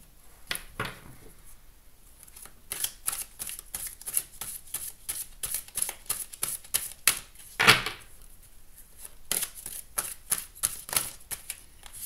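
Oracle cards being cut and shuffled by hand in a quiet room, a steady run of crisp, close slaps and riffles with one louder flutter partway through.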